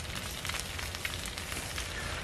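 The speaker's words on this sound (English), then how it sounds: "first I'm gonna saute some spinach" Spinach sautéing in a pan gives a steady, soft sizzle and crackle, close and even throughout the short moment.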